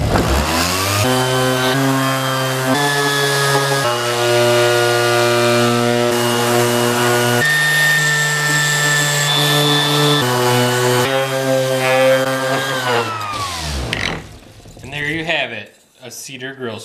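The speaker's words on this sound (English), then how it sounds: "Now we just need to sand it so it's smooth." A power sander works a cedar grill scraper, giving a loud, steady high whine with strong tonal harmonics that shifts pitch slightly several times, then cuts out near the end into fainter, irregular noise.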